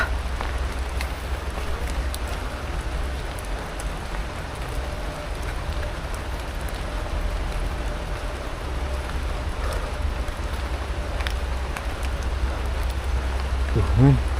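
Steady rain pours down in a misty forest, a dense, even hiss that continues without break for the whole stretch, joined near the end by a brief louder sound.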